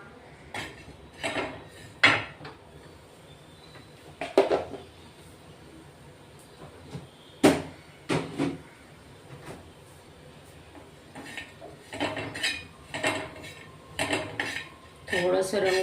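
Grated dry coconut roasting in a pan, stirred with a metal spoon that clatters and scrapes against the pan in irregular bursts, close and loud, with quieter gaps between.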